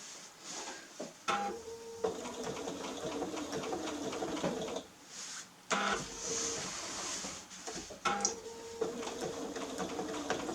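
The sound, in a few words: sewing machine free-motion stitching fabric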